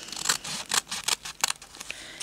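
Scissors snip through fabric for a slow-stitching project in a series of crisp, close cuts, irregular bursts of sharp rasping with short pauses between them.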